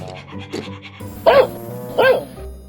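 A dog in a Barbie game makes two short, breathy panting bursts close by, separated by a pause, over a quiet background with faint murmuring.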